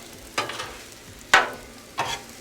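Hibachi-style rice sizzles gently in a pan with low-sodium soy sauce and hoisin. A spatula scrapes through it in three separate sweeps, and no one speaks.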